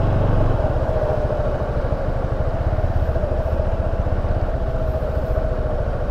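Honda Click scooter wading through floodwater on a street in Puerto Princesa, Palawan. A close, steady engine drone with a slight rattle holds throughout, with no talk.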